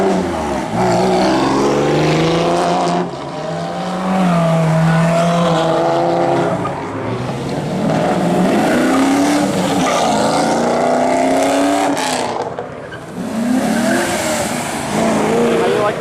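A Ferrari accelerating hard away from a Houston cars and coffee meet, its engine note rising and falling through loud, close revving sweeps with tire noise, crowd voices mixed in underneath.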